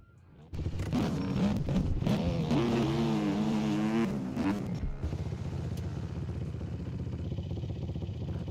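Enduro motorcycle engines rev and rise in pitch, then settle into a steady rumbling drone at a moderate distance, with clattery mechanical noise throughout.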